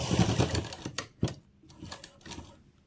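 A sewing machine stitches a lehenga blouse in short mechanical bursts, with a busy rattling run at the start followed by a few sharp clacks and quieter intermittent whirring.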